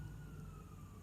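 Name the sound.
sirens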